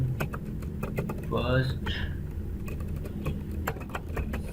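Rapid clicking of computer keyboard keys typing HTML list tags, steady taps close by with someone speaking briefly over them.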